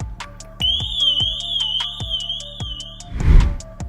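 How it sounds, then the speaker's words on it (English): A Pandora Storm Plus car alarm's 120-decibel siren, a loud warbling high tone wavering for several seconds over a rhythmic beat of backing music, followed by a burst of noise near the end. "This adds a 120 decibel siren"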